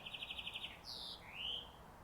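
Small bird chirping outdoors in a rapid run of about eight bright repeated notes, then two longer whistled calls, fairly clear over a quiet background.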